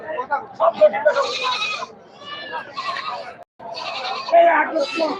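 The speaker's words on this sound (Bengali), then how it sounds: "সবগুলা কিন্তু ব্ল্যাক বেঙ্গল জাতের ছাগল" Black Bengal goats bleat repeatedly at a busy livestock market, several loud, close calls overlapping in bursts with a brief pause midway, amid crowd murmur and people talking.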